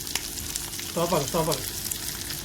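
Fish fresh from the sea frying in a pan, a close, continuous sizzle and crackle, with a short harmonic squeal or voice-like sound briefly over it midway.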